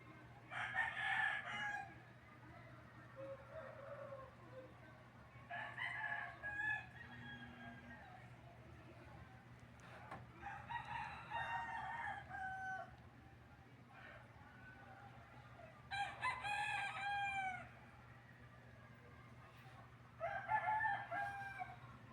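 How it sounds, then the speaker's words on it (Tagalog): Roosters crow at dawn in repeated bursts, about five long calls spaced several seconds apart, moderately distant over a low steady hum. "Tilaukan ng tilaukan na yung mga manok ko."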